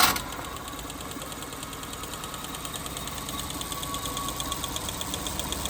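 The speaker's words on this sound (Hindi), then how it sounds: "तो दोस्तों इंजन में मिसिंग है और एक टक टक टक टक की आवाज भी आपको सुनाई दे रही है।" Petrol car engine idling with a misfire, a steady rapid ticking knock repeating over a rough mid-pitched hum, close and fairly quiet, with no voices.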